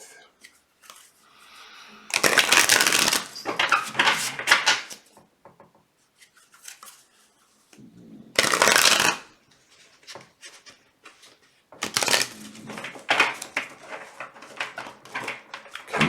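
Three bursts of tarot card shuffling, a riffling flutter each time, with quieter handling and soft rustles of cards between them.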